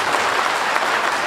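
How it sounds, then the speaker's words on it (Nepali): Brief burst of loud, dense applause from a congregation at a Christian wedding, continuous clapping from start to finish. "हामी एकचोटि जोरदार तालीका साथ"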